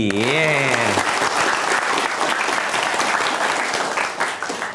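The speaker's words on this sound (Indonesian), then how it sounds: "Tepuk tangan untuk Gayung Bersambut kita" Studio audience applause at a TVRI Sumatra Selatan pantun show, steady clapping filling the room from the start, with a voice speaking briefly over the first second.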